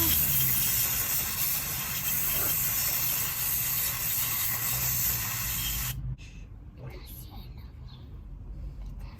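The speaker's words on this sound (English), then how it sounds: "you use a specific cleaner for mass airflow sensors. Okay, so you're going to put it here and you're going to give it a lot of pressure" Mass airflow sensor cleaner sprays under pressure onto the sensor of a 1990 Volvo 240, a loud, steady hiss lasting about six seconds before cutting off abruptly, followed by quieter handling sounds.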